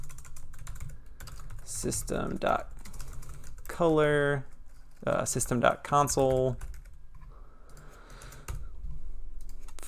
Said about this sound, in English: it's a great day for typing